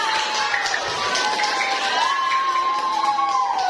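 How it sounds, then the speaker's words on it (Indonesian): Classroom of children applauding a classmate named Dista for the best grade, loud steady clapping mixed with excited shouting and cheering voices throughout. "Tepuk tangannya dulu semua untuk Dista"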